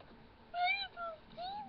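Three short, close cat meows in a video game, each a rising-then-falling whine with brief gaps between, over a faint background hiss.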